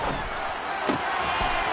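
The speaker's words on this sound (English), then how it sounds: "Crowd getting in it a bit already." Football stadium crowd during an NFL game between Cleveland and the opposing team, a steady dense roar building ahead of a third down, with brief thumps rising above the broad crowd noise.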